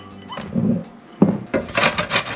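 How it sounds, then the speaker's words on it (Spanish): Zucchini scraped against a grater for pupusa cheese filling, giving close, loud, rough rasping strokes in a quick uneven rhythm after a few softer handling noises. "Aquí vamos a estar raspando la calabacita para poderla mezclar con el queso."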